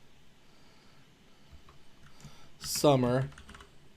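Soft, quick tapping on a computer keyboard while entering text in an Excel 2016 spreadsheet, faint and steady under someone briefly speaking.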